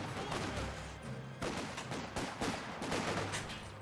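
Sustained gunfire from a Company of Heroes 2 battle in an urban intersection, a squad of five riflemen firing against outnumbering Volksgrenadiers: dense overlapping rifle and machine-gun bursts, loud and continuous with rhythmic volleys throughout.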